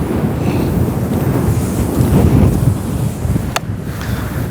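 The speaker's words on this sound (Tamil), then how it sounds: "பாருங்க, பயங்கர காற்று அடிக்குது. பயங்கரமாக அடிக்குது காற்று." Strong wind buffets the microphone on the seashore at Nagathevanthurai, a constant loud rumbling gust with surf-like wash underneath and one brief sharp click near the end.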